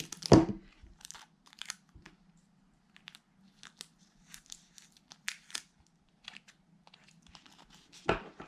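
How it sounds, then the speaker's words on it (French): Adhesive tape is torn and pressed onto a homemade pop-it toy, producing sharp crinkling and tearing bursts with a louder rip at the start and end and quieter fiddly crackles in between, set against a faint steady hum. "je vais remettre un petit bout de scotch"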